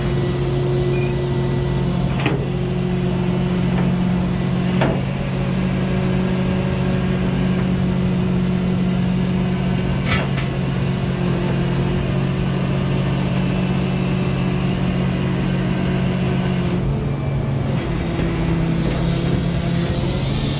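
A tow truck engine idling steadily with a low, constant hum while a Mercedes Benz E300 is loaded, the bed being moved; faint clicks and knocks occur now and then over the drone, with no talking.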